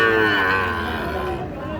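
A Sahiwal calf lets out one long, loud moo close up, its pitch sliding gradually downward as it fades at the end.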